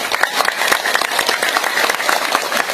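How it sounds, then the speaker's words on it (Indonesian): Audience applause at an Islamic religious lecture in a village, a dense, steady patter of many hands clapping close and loud for the Quran teachers, with no talk over it. "Tepuk tangan untuk guru ngaji."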